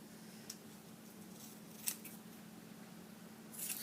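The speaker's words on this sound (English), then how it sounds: "Just cutting off the excess paper." Scissors snip away excess paper during a craft project, a few faint, crisp cuts spaced apart over a quiet room hum.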